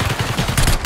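Rapid automatic gunfire from the Black Ops 6 video game rattles off in a quick, close burst of evenly spaced shots.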